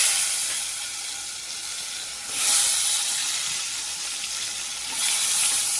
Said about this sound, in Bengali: এখন এই পাশে মাছের বেগুনগুলো সব ভেজে নিচ্ছি।